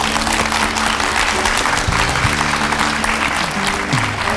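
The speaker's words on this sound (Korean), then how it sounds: "힘찬 박수로 모시겠습니다." A studio audience gives loud, sustained applause to welcome a lecturer onto a television lecture program, with dense clapping throughout and faint background tones underneath.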